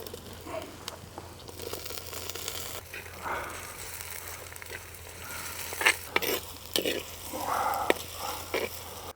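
Tomatoes dropped into a hot pan for Telangana-style goat curry, sizzling and frying with stirring scrapes and crinkling bits, fairly faint, under occasional talk.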